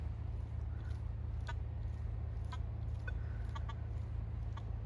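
A Legend metal detector fitted with the LG 30 oval coil gives short, sparse beeping target tones over a constant low electrical hum, several brief blips scattered across a few seconds.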